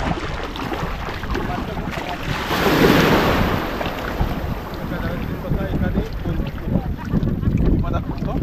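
A boat heads out toward deep sea off Malvan. Its engine and the rush of water and waves carry on steadily and loudly under heavy wind buffeting on the microphone, with people talking over it.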